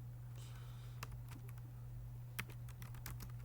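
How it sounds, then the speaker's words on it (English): Quiet typing on a computer keyboard, with scattered sharp key clicks in uneven bursts over a steady low electrical hum. "but I can type out"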